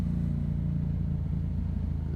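Steady low rumble of car traffic while a Yamaha MT-07 motorcycle with a Yoshimura exhaust lane splits, a continuous droning engine and road noise with no clear breaks.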